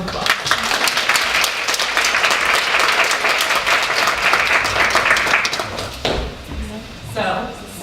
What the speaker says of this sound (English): give her a well-deserved and overdue round of applause